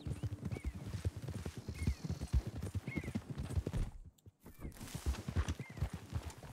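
A horse in the video game Red Dead Redemption 2 walks with steady, even clip-clop hoofbeats, pausing briefly midway before the rhythmic hooves resume, with occasional faint talk.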